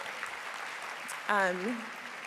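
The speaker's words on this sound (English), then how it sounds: "let's have a round of applause for that" A congregation's steady wash of applause for a new minister fills a general session hall at a Unitarian Universalist assembly, and a voice rises briefly over the clapping partway through.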